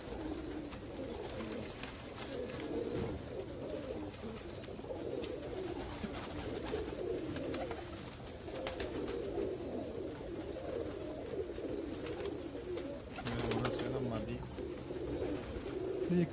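Pigeons coo in a low, continuous murmur throughout, with many overlapping soft calls from a loft of kabootar, close by and steady, a voice briefly heard in the background.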